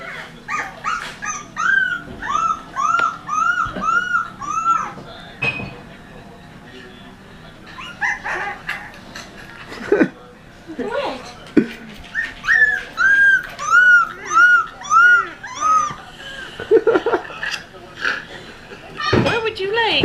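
A dog whimpers with high rising whines and gives occasional yips and short barks in repeated bursts, sounding close, while a person speaks at times in between.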